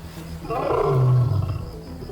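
A lion roars on the savannah, a deep, powerful roar that swells and then tapers off, heard close and alone against a quiet background.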